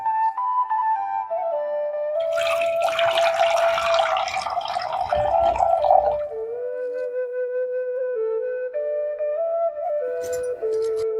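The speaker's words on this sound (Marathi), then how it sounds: "आता चुलीवर भांडे ठेवून त्यात आता पाणी घालून घेऊया" Water is poured into a pot set on a stove while cooking raw mango kadhi, a splashing, gurgling stream lasting about four seconds before stopping, with a steady tonal music bed underneath throughout.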